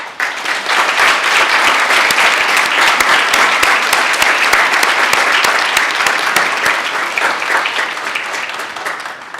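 Steady, dense audience applause at a school district board of trustees meeting, sustained and loud for several seconds before easing slightly at the end, with no talk over it.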